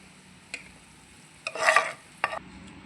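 Onions frying in oil in a pan on low heat are stirred, with three separate scraping strokes, the middle one longest, over a faint, quiet sizzle.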